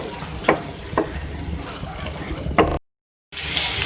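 Green chilies softening in a karahi of bitter gourd curry, a steady sizzle with a few sharp stirring clacks, close and even, then a brief silence before the frying resumes.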